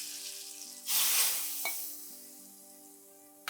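Golden-fried onion tempering is poured into a pot of Pongal idi sambar, setting off a sudden loud sizzle that bursts in, peaks, then fades into a quieter crackling hiss, with a sharp clink partway through.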